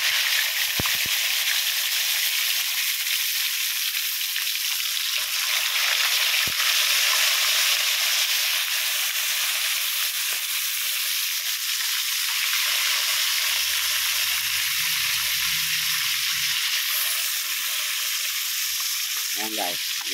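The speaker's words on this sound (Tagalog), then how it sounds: "Lalagay na natin yung isda prito para hindi na dumikit guys." Fish sizzles and crackles in hot oil, a constant close frying hiss that runs the whole time without pause.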